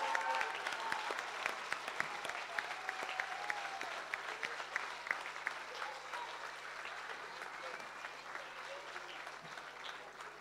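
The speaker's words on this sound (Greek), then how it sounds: "Εδώ το μεγάλο χειροκρότημα" Audience applause for the children at a school celebration of 28 October, a dense, steady clapping from a sizable crowd lasting the whole stretch, moderately loud with scattered sharper claps and faint voices underneath.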